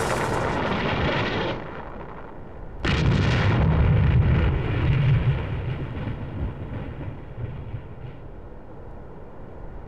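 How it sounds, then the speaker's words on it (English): Orbital weapon firing sequence in Wizardry 8, a sustained roaring blast that cuts off abruptly, then a second heavy explosive surge that rolls and rumbles before slowly fading, loud and without speech. "Orbital coordinates received. Tracking. Target locked on. Begin firing sequence. 3, 2, 1. Firing."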